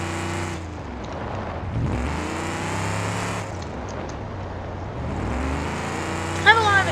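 A Lincoln car drifting on dirt in BeamNG, its engine droning and shifting pitch as it slides, loud and close throughout, with a brief sharper burst near the end.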